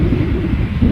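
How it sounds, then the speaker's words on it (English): An Aer Lingus ATR turboprop airliner at Edinburgh airport produces a steady, rumbling low drone with a broad noisy texture, moderately loud and continuous, with no talking. "You'll hear the ATR, Aer Lingus ATR"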